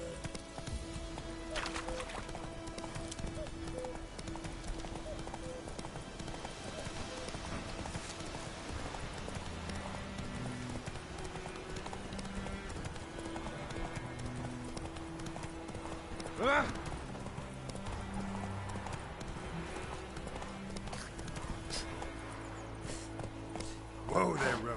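Roach, a horse in The Witcher 3, gallops with steady rhythmic hoofbeats that carry on throughout, mixed with game ambience, occasional snorts and a brief whinny, while a voice speaks over parts of it.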